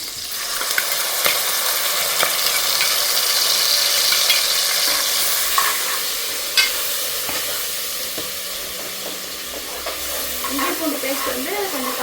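Ginger-garlic paste fries with tomatoes and curry leaves in a pan for a country chicken curry, giving a steady close sizzle, with occasional scraping stirs of a spoon against the pan.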